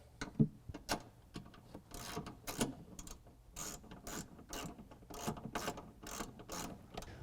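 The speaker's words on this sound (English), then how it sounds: "Next, we're going to use our 13mm with an extension to get it tightened down." Ratchet with a 13mm socket and extension tightening a bolt on a 2017 Ford F-150 5.0L V8 during a cold air intake install, heard close up as repeated rasping clicks in irregular bursts.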